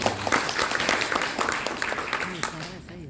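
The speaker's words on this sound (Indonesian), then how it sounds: "Tepuk tangan dong Bapak Ibu." Scattered audience clapping at a business opportunity presentation on insurance, moderately loud and mixed with talking and crowd voices throughout.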